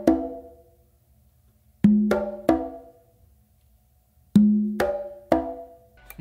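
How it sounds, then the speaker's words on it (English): A quinto conga is struck in a reggae repeating pattern of sharp open slaps and ringing tones, each hit decaying cleanly into silence between phrases. "I'm actually going to do an open slap with my non-dominant hand on the quinto."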